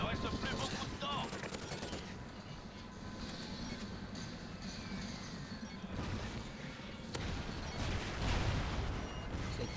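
Sustained gunfire in a video game, dense rapid bursts rattling on and off over a constant battle din with scattered electronic effects, moderately loud throughout.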